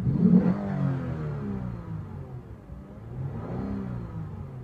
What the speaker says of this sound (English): so we're just gonna rev it up.